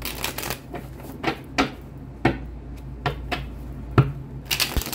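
Tarot cards are shuffled in quick, crisp riffles and snaps, several bursts close by with short pauses between them.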